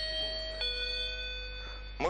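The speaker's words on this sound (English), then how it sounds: "press the button, our bell works." A repaired wireless radio doorbell chimes after its transmitter button is pressed, sustained electronic bell tones ringing close and clear with a soft click partway through and another near the end.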